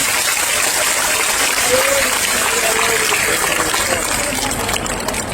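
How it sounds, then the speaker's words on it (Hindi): A large audience at a religious discourse gathering claps hard together, a dense, steady roar of applause that holds at full strength throughout and eases slightly near the end. "एक बार जोरदार ताली बजा करके उन्हें धन्यवाद दें।"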